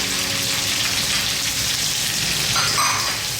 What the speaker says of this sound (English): let's saute these around